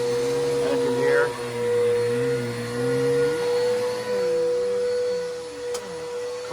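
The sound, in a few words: Bissell vacuum cleaner running with squeaky wheels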